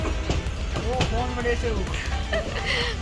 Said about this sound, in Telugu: ట్రైన్ కదిలింది ఇప్పుడే.